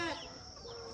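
A small chicken at a mini farm house in Ghana gives a short, close cluck over a steady background hum.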